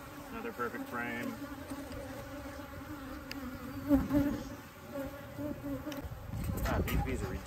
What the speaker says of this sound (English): God, these bees are ridiculous.